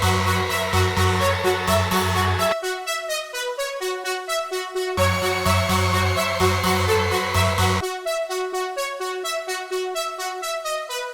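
A bright Serum-style synth pluck recreating the one from a track, playing rhythmic arpeggiated notes, first with a full low layer and then as thinner plucks alone, clean and loud with no talking.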